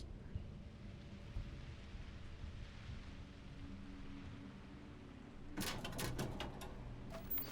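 Thunderstorm in the game Starfield, with steady soft rain hiss and a low rumble, then a sudden louder crackling burst of thunder near the end, faint overall.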